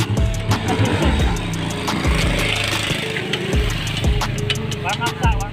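A motorcycle engine warms up on a roadside, its uneven idle popping and revving under laughter and chatter, with sharp knocks scattered throughout.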